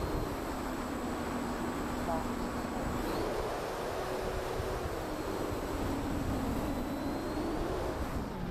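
Durafly SeaFire RC model airplane motor on landing approach, a thin whining drone that shifts in pitch as the throttle eases, heard steadily against wind noise outdoors.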